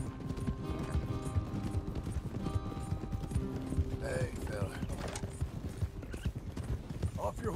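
Horse hooves clip-clop in a steady rhythm with creaking tack in the video game Red Dead Redemption 2, while voices talk over the trotting.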